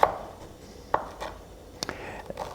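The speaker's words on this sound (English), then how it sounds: "I have a piece of ginger here that I'm also going to do a couple of thin slices of." A knife chops through a piece of ginger on a board, a few separate thin-slice knocks spaced unevenly, close and fairly crisp with no talking.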